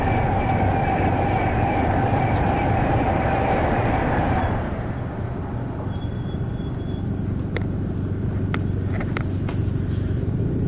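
A train rumbles loudly and continuously, with a steady mechanical drone that shifts tone partway through and a few sharp clicks from the rails.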